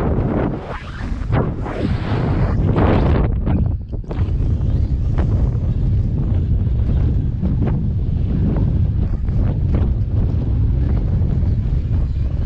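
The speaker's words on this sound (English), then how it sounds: "It is windy." Strong outdoor wind buffets a handheld microphone at an RC jump spot, a loud continuous low rumble with gusty surges and a brief dip partway through.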